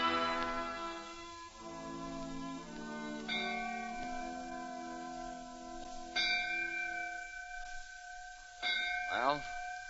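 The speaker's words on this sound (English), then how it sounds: "The bell on the courthouse tolling for the passing of his soul." A courthouse bell tolls slowly with long ringing decays, repeated strokes layered over a faint murmur of voices and background in an old radio drama recording.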